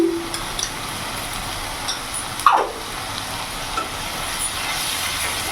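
Ginger, garlic and green chili paste fries in a pan, giving a soft steady sizzle with faint scraping as it is stirred, plus one brief louder clatter near the middle.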